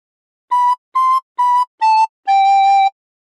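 Recorder playing a short phrase of We Wish You a Merry Christmas: five clean, breathy tones, four short even notes followed by one longer held note, close and clear with no talk.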